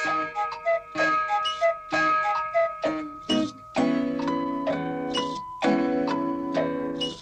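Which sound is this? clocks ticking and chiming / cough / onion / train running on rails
clocks ticking and chiming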